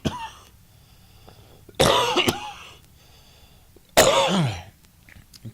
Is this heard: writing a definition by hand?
no